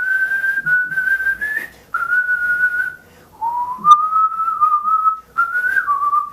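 A person whistles a game melody from a Namco-era console title, clear and close, in sustained pure notes with short pauses between phrases and no talking.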